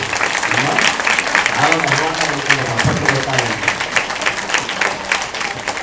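Audience applause at a Telugu spiritual discourse gathering in Manthani, steady broadband clapping throughout, mixed with a speaker's voice talking over it at moderate loudness.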